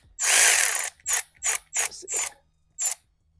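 A hand ratchet with a 15 mm socket turns a sway bar link bolt on a 2008 Honda Civic Si FD, giving one long clicking burst followed by four short, close, crisp ratcheting strokes and a final brief one.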